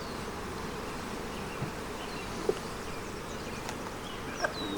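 Honeybees drone steadily around an open hive at an outdoor spring beekeeping class, a continuous close, moderate buzz with a few brief louder passes of individual bees.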